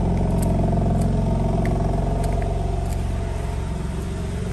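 A BMW M4 Competition, warmed up with its exhaust valves open, idles with a deep, steady burbling rumble and faint clatter, loud and close throughout with no talking.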